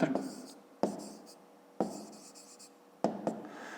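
Writing on a board during a fifth-grade math lesson: four sharp taps as the marker lands, each followed by a scratchy stroke that fades, recorded close, with someone speaking Ukrainian in between.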